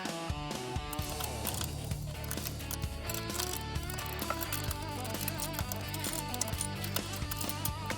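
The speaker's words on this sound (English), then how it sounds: "grab your Phillips. There's 4 screws that you need to remove on the front" A Phillips screwdriver ratchets and clicks while four screws come out of the front of a Stern Godzilla pinball machine, working through the wire form. Rapid, close mechanical ticking runs throughout under steady background music.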